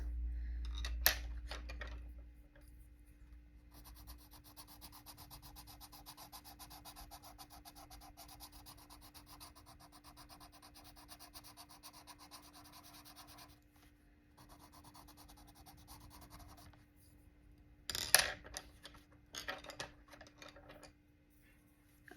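A colored pencil scratches across paper in long, steady strokes, with a dry, quiet rasp that runs almost continuously. A few sharper taps and scrapes come near the end.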